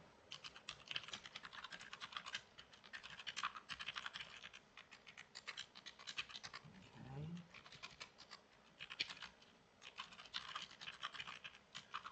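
Rapid typing on a computer keyboard, a quick irregular run of light key clicks with short pauses, fairly close and soft, with faint background sounds.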